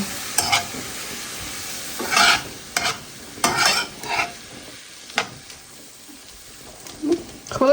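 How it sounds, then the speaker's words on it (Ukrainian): A spoon scrapes and clinks around a pot of borscht in several separate bursts of stirring, close by, with a soft sizzle underneath. "пару ложок додаю бульйону і перемішую"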